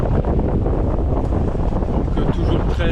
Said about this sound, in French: Donc toujours 13 nœuds de vent là.